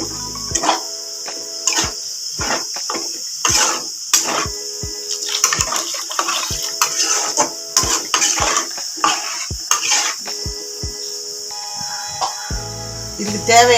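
Water is poured into a pan of egg gravy base, a steady running splash that continues throughout, with repeated sharp taps and clinks from the cookware layered over it.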